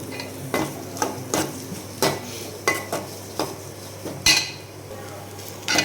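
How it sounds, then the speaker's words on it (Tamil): A spoon stirs potatoes and onions frying in a pan for kurma, with repeated metallic scrapes and clinks against the pan over a soft, steady sizzle, close and fairly loud. "இன்னொரு சைடு குருமா ஆனியன் நல்லா இதாகிடுச்சு. அண்ட் தென் நம்ம இப்போ உருளைக்கிழங்கு ஆட் பண்ண போகிறோம்."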